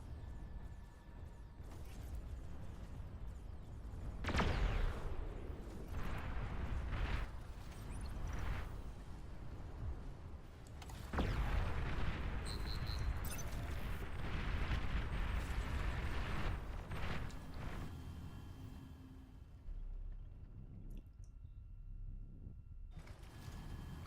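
Gunfire and explosions in the real-time strategy game Beyond All Reason: deep booming blasts and rumbling eruptions, with sharp impacts around the fifth and eleventh seconds, over continuous battle noise that quietens near the end.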